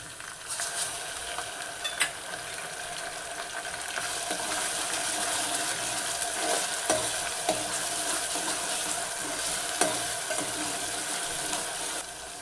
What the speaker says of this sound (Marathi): याला चांगलं परतून घ्यायचं 4 ते 5 मिनटं